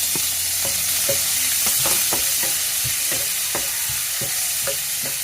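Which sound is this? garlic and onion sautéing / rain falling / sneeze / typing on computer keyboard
garlic and onion sautéing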